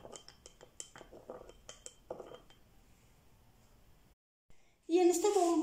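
A spoon clinks and scrapes against a bowl while lemon juice and a pinch of salt are mixed into a dressing, a run of quick light taps that fades before a louder burst at the end.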